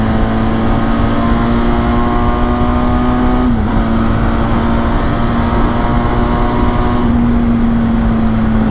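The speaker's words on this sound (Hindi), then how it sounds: "लो पांचवे में खींच रहे हैं। एग्जॉस्ट नोट सुनो बेनेली का" A Benelli TRK 502 motorcycle pulls hard in fifth gear, its exhaust a steady close drone that climbs slowly in pitch, with a brief dip partway through. Strong wind rush runs under it throughout.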